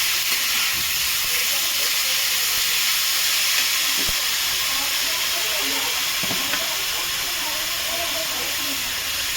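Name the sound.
beetroot frying in a pan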